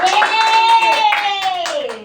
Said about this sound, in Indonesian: Nah, benar, tepuk tangan Cici.